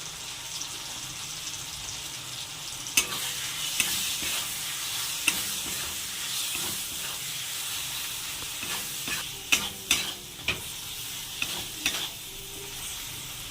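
Spice masala of ginger-garlic paste, coriander, chilli and turmeric sautéing in a pan for fish curry, a steady close sizzle broken by sharp spoon scrapes and taps.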